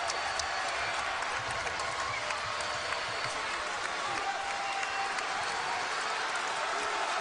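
A basketball arena crowd in Cincinnati roars during a close late-game stretch between the Musketeers and Butler, a constant loud, far-spread wash of cheering and noise with a commentator's voice faintly underneath.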